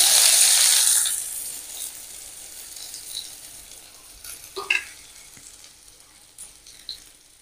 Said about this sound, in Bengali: একটা মাঝারি সাইজের পেঁয়াজ কুচিয়ে রেখেছি, তেলে দিয়ে দেবো।